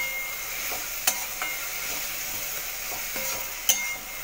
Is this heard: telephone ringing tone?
no